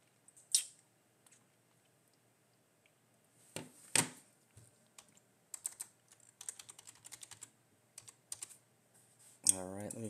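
Keys on a computer keyboard are tapped to enter a password, in quick faint bursts of clicks with short pauses between, plus a few sharper single clacks and a brief tonal sweep at the end.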